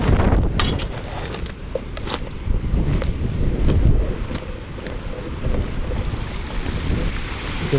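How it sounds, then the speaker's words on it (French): Powerful wind of at least 90 km/h roars and buffets the microphone continuously, a loud rushing gust with low rumbling and no talking. "il y a le vent qui vient de se lever, il est au moins à 90 km heure"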